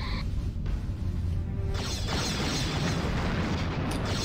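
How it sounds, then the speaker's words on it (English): Torpedo explosions strike ships in a Star Trek starship battle game, the USS Stargazer against a Ferengi Marauder: a sustained, dense rumbling blast that swells after a brief lull and keeps roaring loud to the end. "So it seems the torpedoes cause hull damage."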